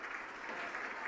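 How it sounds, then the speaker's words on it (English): Crowd applause at a girls' ice hockey game between Manchester and Bedford, a brief steady patter of clapping filling the rink at moderate volume. "And getting a round of applause here."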